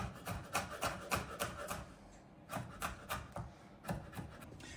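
A kitchen knife chops garlic on a cutting board in quick, quiet, rhythmic strokes, with a short pause midway before the chopping resumes, heard close and alone.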